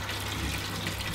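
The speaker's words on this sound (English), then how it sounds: "Wash up the dishes." Tap water runs steadily into a kitchen sink while dishes are washed, a continuous close rushing splash with no talk over it.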